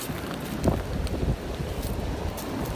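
Strong wind buffets the microphone in a continuous rumbling roar, with gusty swells rising and falling throughout.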